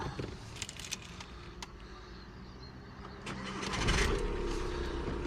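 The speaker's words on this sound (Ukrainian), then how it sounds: "Значить, заводимо машинку." A car engine cranks and catches, with a few clicks and rattles before the motor fires and settles into a steady running rumble close by.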